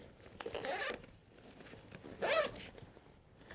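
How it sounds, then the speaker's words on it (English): Zipper being pulled open on the case of a Konova K5 motorized camera slider, two quiet rasping zip strokes close to the microphone with a short pause between them. "I am going to unzip our slider here"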